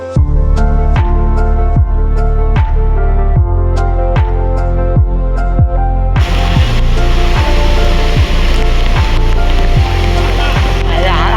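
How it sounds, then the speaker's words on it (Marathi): A steady rushing roar of Bhivpuri waterfall in heavy rain swells in about halfway through, over a repeating rhythmic tonal pulse that runs the whole time. "एवढा जोरात पाऊस, एवढा सुंदर वॉटरफॉल"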